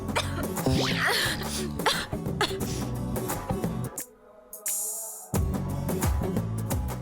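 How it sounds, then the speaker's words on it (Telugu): A person with a cold coughs repeatedly in close, harsh bursts, with a brief quieter pause midway before the coughing resumes. "దగ్గు కూడా ఎంటర్ అయింది"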